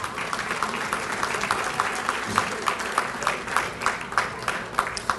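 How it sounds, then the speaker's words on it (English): Audience applause at an athletic hall of fame ceremony, steady rhythmic clapping from a moderate-sized crowd in an indoor hall, sustained throughout. "Give them a round of applause."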